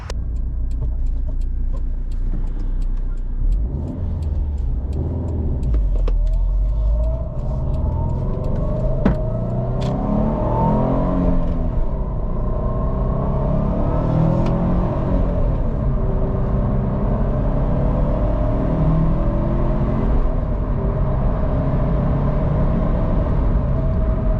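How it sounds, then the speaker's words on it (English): A 2010 Subaru WRX STI hatchback with a replaced turbocharged engine revs toward redline on a test drive, its engine note climbing and swelling under a continuous heavy road rumble, loud and close from inside the car. "motor is running good, running up to close to red line, turbo's pulling strongly, no smoke, no weird noises"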